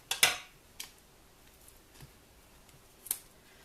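Scissors snip through thick foam tape in a quiet room: a sharp double snip at the start, then a few lighter clicks and one more crisp snip near the end.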